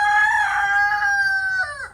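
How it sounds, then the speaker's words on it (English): A rooster crows nearby, one loud, drawn-out cock-a-doodle-doo that rises, holds and trails off at the end, heard on its own with no talking. "the roosters around here are trying to wake y'all up"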